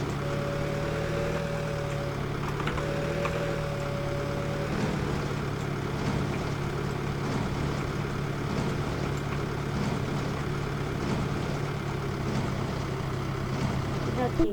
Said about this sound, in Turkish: Yavaş traktörü hiç sevmem ya.